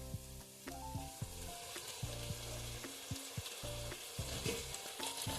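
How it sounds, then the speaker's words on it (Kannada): Mint with ground garlic, ginger and green chilli sizzles in hot oil for a vegetable pulao, a steady close-up fry broken by the clinks and scrapes of stirring. "ಪುದೀನ ಹಾಕೊಂಡು ಸ್ವಲ್ಪ ಫ್ರೈ ಮಾಡ್ಕೊತೀನಿ."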